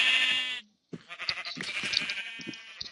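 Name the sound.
sheep bleating in Minecraft video game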